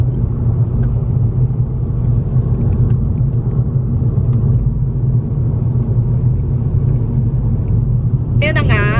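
Low, steady engine and road rumble fills the inside of a moving car, loud and constant throughout, with a brief whistling squeal near the end; a person talks over it.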